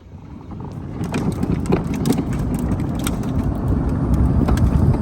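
A stock 2014 Club Car Precedent golf cart on a lithium battery, with stock controller and motor, drives over freshly paved road with a steady electric motor whine and road and wind rumble. The noise builds slightly as it speeds up.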